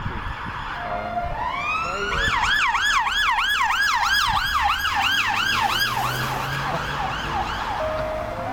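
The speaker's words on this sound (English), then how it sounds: "If there isn't a siren every 5 minutes, then you know something's gone wrong." An emergency vehicle siren wails in a fast, rising-and-falling yelp, loud and steady over road rumble, fading slightly toward the end.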